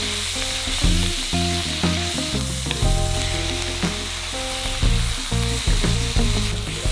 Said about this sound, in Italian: e le facciamo sfrigolare per bene. Sentite che rumore incantevole!